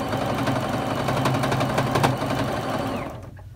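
Domestic sewing machine stitching steadily during free motion quilting, a close, fast mechanical whir with regular ticking that fades out near the end.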